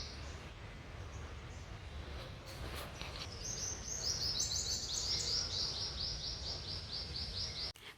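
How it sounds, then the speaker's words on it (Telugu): Birds chirp and trill on an office campus during a quiet break, a faint bright song of rapid repeated notes over soft background hum, growing more prominent in the second half. "న్యాచురల్గా వస్తున్న బర్డ్స్ సౌండ్ వినండి."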